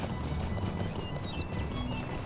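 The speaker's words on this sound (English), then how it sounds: "I have not looked at my horse running very much lately." Chestnut pony from The Lord of the Rings Online running, its hooves beating a steady clip-clop with no pause, close and prominent over a dense, level bed of game ambience.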